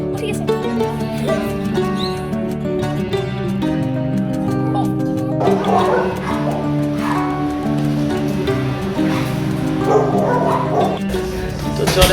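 Several dogs bark and yip loudly and almost nonstop in the dog section of a pet adoption shelter, with some whimpering mixed in and people talking underneath.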